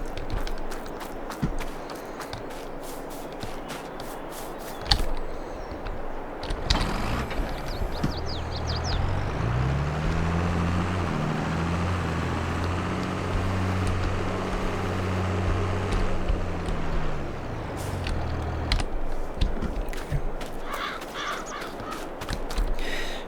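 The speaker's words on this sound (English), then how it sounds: "we should probably move this tractor actually." A Farming Simulator 22 tractor engine drones steadily for about twelve seconds, with a low rumble that builds in, holds and fades out, under constant ambient noise and no talking.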